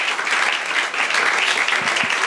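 A church congregation claps and cheers in praise during a worship service, a dense, continuous wash of applause filling the space with no voices standing out.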